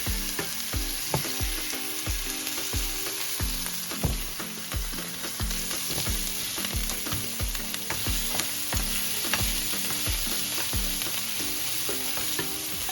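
A rack of lamb sears in a hot pan with a steady loud sizzle, broken by repeated low thuds and scrapes as the meat is turned and pressed, with no talking.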